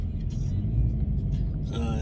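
Car interior on a commute to work, a steady low road rumble and engine hum with faint tyre noise, continuous and close beneath a quiet cabin.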